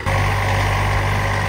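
An Eicher 242 tractor engine running steadily after starting, a loud close diesel drone with a constant low throb and no pause.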